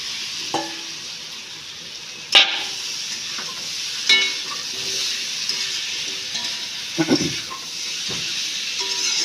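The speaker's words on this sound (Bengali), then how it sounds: "এখন এই সবজিগুলো ঢালা হবে।" Vegetables tipped into hot oil in a kadai hiss and sizzle steadily, with a few scrape-and-stir knocks and brief louder bursts scattered across the frying; no one speaks.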